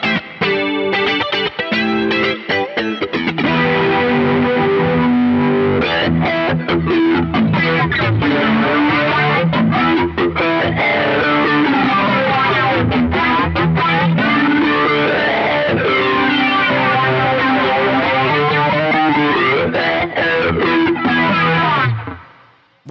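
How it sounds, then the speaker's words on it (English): Heavily processed electric guitar through a Wampler Terraform phaser, with a sweeping, swirling tone, notes and chords playing continuously, loud and up front. "it sounds kind of like a electrified kind of phaser"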